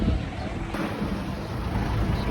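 Wind gusts past the microphone in a flower garden, a loud, rumbling outdoor buffeting that surges and eases without pause.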